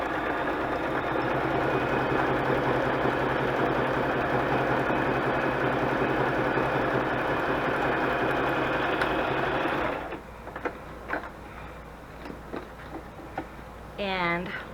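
A sewing machine stitching through paper collage pages runs in a close, steady, rapid whir for about ten seconds, then stops, leaving quiet handling noises and a brief voice.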